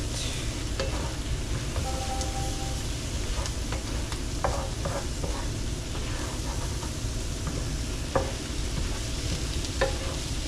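Food for sandbar chicken sizzles steadily in a frying pan while a utensil stirs it, giving close scraping and clinking over the constant hiss of frying.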